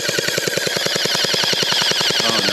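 Unlocx gel blaster firing on fully automatic, a rapid, steady stream of sharp mechanical shots at an even rhythm, loud and close, with no talk over it.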